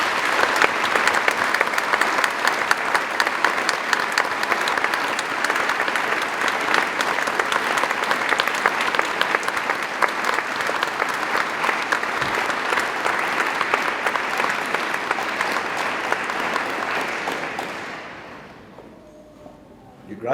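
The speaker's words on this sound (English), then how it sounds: "Let's give them a big round of applause." Graduates and guests at an Exeter degree ceremony give a long, loud, sustained round of applause from a large crowd in a hall, steady for many seconds before fading out near the end.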